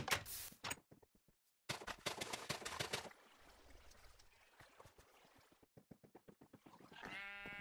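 Blocky Minecraft sheep bleating in the Agrarian Skies modpack, a few short bleats scattered among choppy game noises, with a clear bleat near the end, fairly quiet overall.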